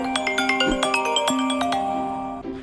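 A phone rings during a call with a bright electronic ringtone, a quick run of repeating chiming notes heard close and clear with no talk over it.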